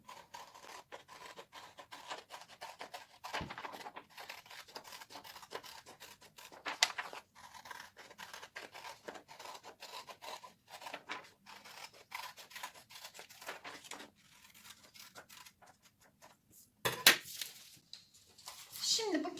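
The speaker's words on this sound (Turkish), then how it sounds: "Çizdikten sonra çizginin üzerinden giderek kesiyorum." Scissors snipping paper along a drawn line during a children's craft activity, a steady run of short close crisp cuts with rustling paper, faint background voices, and a louder handling sound near the end.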